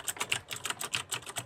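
Clicky keys on a Razer Chroma gaming keyboard are pressed in a steady run of about a dozen crisp, close strokes, alone and evenly paced.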